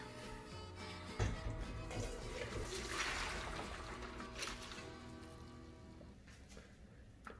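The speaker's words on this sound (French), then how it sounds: "Après 6 minutes, je vais arrêter la cuisson des pâtes et on va les égoutter." Cooked spaghetti for carbonara poured into a colander, a steady rushing splash of water streaming through for several seconds, near and fairly loud, tapering off toward the end.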